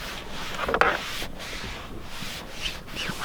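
Conditioner being worked by hand into a leather car seat, a close, continuous rubbing and scuffing with a few brief squeaky strokes, no talk.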